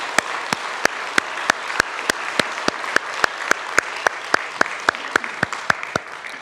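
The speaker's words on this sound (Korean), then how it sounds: "하나님 앞에 다시 한번 감사의 박수를 힘차게 올려드리겠습니다" A church congregation at a Sunday worship service claps together in a steady, even rhythm, each sharp unison clap landing about three times a second over a soft room hum.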